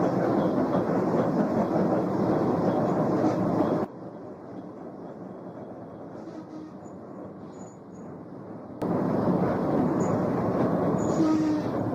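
An electric tram in Portugal rumbles along with a steady roar that drops to a quieter hum for a few seconds, then returns loud again.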